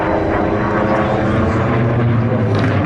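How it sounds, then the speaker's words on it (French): A Hawker Sea Fury, a post-war piston-engined propeller warplane, drones loudly and steadily overhead at an airshow, its rich engine rumble filling the air with a faint voice underneath. "Et oui, il s'agit du Hawker Sea Fury."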